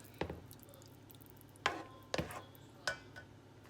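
Chunky canned diced tomatoes, undrained, being stirred into a pan of chicken fajita pasta: a few separate wet squelching scrapes with quiet pauses between them, close and fairly soft.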